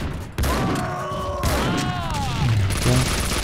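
Grenade explosion in the video game Max Payne 2, a sudden loud blast followed by rumbling debris and ringing tones, with a brief voice shouting amid the aftermath.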